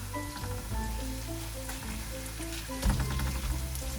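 Tom yum paste fries in oil in a pan for a vegan tofu and vegetable dish, a dense steady crackling sizzle heard close up over a low hum, with no speech.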